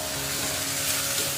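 Veg momo stuffing sizzles and fries steadily in a pan while being stirred, with fresh coriander just mixed in; a constant close hiss with faint scraping and no voices.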